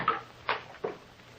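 A door in an old radio drama swings open after being unlocked: three short, moderately loud knocks and creaks spaced about a third of a second apart, alone against a quiet background.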